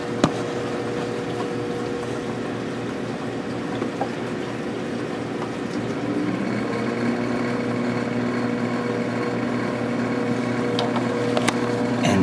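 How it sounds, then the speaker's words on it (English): Steady hum and whir of a 400 gallon aquarium's sump pump straining to restart, a droning motor with gurgling water whose tone shifts as it slowly tries to come up to speed. "it's obvious that the pump's having a hard time starting back up. It is not running at full speed."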